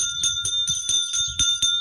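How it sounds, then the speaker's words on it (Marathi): An ice cream vendor's small bell rings in quick, steady strokes, about seven clear metallic rings in under two seconds, close by with light background noise. "बघा कशी घंटी वाजते"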